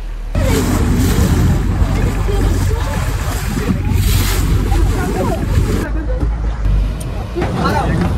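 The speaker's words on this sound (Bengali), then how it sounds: "এখানে তোমরা দেখতে পাচ্ছ জলের ঢেউ কিন্তু বেশ ভালো মতোই রয়েছে এই সাইডটাতে" Water waves slap against a boat cruising through the Sundarbans, with steady engine rumble and wash throughout and a babble of passengers' voices in the background.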